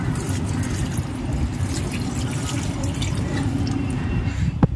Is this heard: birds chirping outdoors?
no